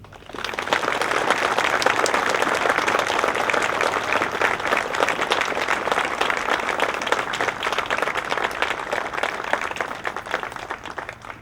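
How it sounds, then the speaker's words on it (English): A crowd at a Veterans Day ceremony applauds veterans in a sustained, even roar of many hands clapping, rising quickly at the start and holding loud and steady for over ten seconds. "please join me in applauding their sacrifices and service to our great nation"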